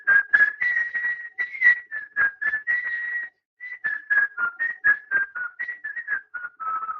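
A person whistles a Disney tune, a clear solo melody of short bright notes with a brief pause midway, close and alone with no talking.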